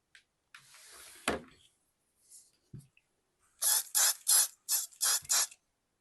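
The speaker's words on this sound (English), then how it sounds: "the difference with this sprayer is it sprays everywhere." A handheld sprayer misting a blackberry wine mixture gives a run of about six short, sharp hissing bursts in quick succession, preceded by a softer spray and a few faint handling knocks.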